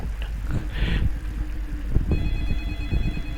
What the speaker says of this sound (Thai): อืมโทรศัพท์ใครโทรมา